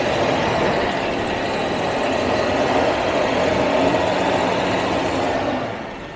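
Jaguar XJ12 V12 engine held at raised RPM, a steady, dense mechanical drone that stays constant for several seconds before easing off slightly at the end, close and fairly loud with no talking.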